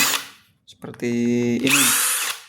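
Dong Cheng power drill spinning a screw at full speed: a short blip, then a loud steady whine with strong harmonic tones that shifts pitch partway through, preceded and followed by scratchy bursts.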